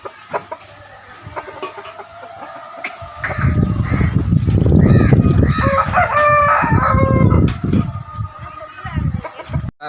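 High-speed breed roosters offered for sale in Nellore crow loudly nearby and cluck in between, over a background of people talking and bargaining.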